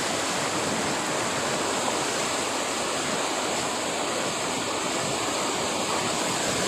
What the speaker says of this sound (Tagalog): yung mga agos po yan ay nagmumula doon po sa mga falls na pinuntahan namin dati. Dito po yung bagsak ng tubig.